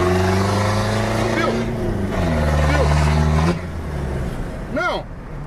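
A chipped Ford F250 pickup with a Cummins 4-cylinder diesel and pedal shift power revs loudly, with a rising engine tone as it pulls away, while someone talks over it.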